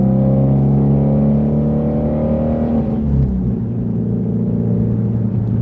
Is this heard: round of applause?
no